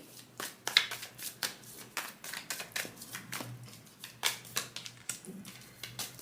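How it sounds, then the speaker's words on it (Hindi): Tarot cards shuffled and drawn by hand for a pick-a-card reading, a quick run of close, crisp riffling flicks and soft slaps, fairly quiet with no talk. "और कुछ कार्ड्स हम निकालते हैं और जानने की कोशिश करते हैं"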